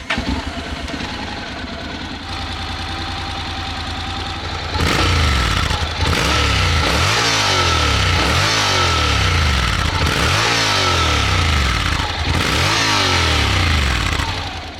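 Honda Forza 750 scooter engine starting and settling into a steady idle, then its exhaust is blipped through a series of about seven rising-and-falling revs, loud and close.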